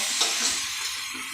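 Eggplant, broad bean seeds and potato sautéing in a hot pan for a vegetable bhaji, giving a steady close sizzle with a faint stir or scrape near the start and no talking.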